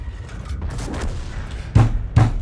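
Tank cannon fire in World of Tanks: two heavy, booming shots close together near the end, over a low rumbling background.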